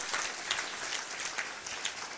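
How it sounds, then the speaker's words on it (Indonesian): Sustained applause from a church congregation, a steady patter of many hands clapping at moderate distance, with small louder swells scattered through. "Berikan tepuk tangan yang meriah buat Tuhan."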